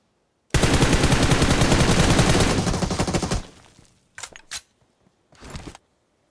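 Sustained burst of M4 rifle fire in a Fortnite match, loud and dense, rattling for about three seconds before fading, followed by a few short separate bursts with gaps between them.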